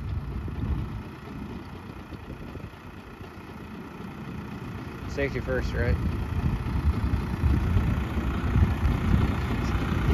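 Low, steady engine idle from a brand new New Holland tractor parked with its PTO switched off, a continuous rumble close by while people talk over it.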